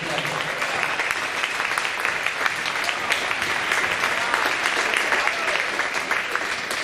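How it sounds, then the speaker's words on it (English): Sustained applause from a school assembly audience for the girls soccer team, dense steady clapping from a large crowd filling the room, with no voices over it. "How about a round of applause for our girls soccer team?"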